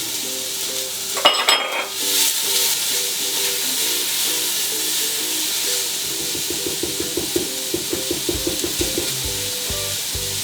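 Garlic frying with onions in a pan, a bright steady sizzle with a burst of stirring early on, then rhythmic scraping and tapping of the spoon against the pan.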